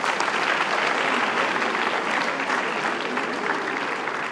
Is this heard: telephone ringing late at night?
no